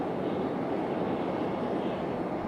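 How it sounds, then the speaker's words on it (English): An Embraer E170 jet airliner departing Raleigh-Durham airport gives a steady, loud broadband engine roar that holds evenly throughout. "This one right here, this E170, I believe."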